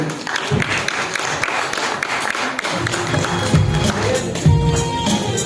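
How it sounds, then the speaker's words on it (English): Audience applause at a Mumbai talk show launch for actress Geeta Basra and Harbhajan Singh: a dense, steady wash of clapping from a crowd, mixed with thumps and background voices throughout. "A big round of applause, everybody."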